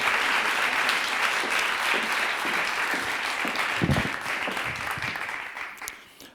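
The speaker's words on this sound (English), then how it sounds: "can we give you another big round of applause, Steve?" An audience at a talk on leading with jazz gives a hearty round of applause, loud dense clapping that stays strong for several seconds before thinning out and fading near the end.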